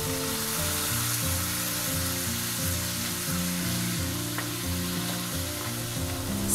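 Peanuts with chilli powder, salt and tamarind stirred in a pan, a steady broadband sizzle with a low rhythmic scraping pulse running throughout, close and continuous with no voices.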